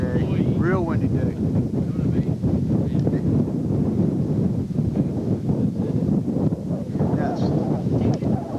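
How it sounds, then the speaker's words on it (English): Strong wind buffets the microphone on a cold, windy day, a constant loud rumble and roar throughout, with talk mixed in underneath. "You can see we got a windy day today. Real windy day."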